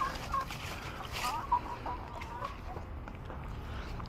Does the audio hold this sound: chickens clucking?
yes